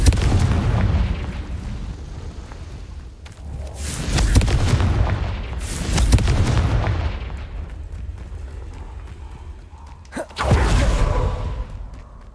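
Confringo blasting spells exploding in Hogwarts Legacy, several heavy booming blasts in bursts with rumbling tails, loud and close, separated by quieter stretches of game ambience.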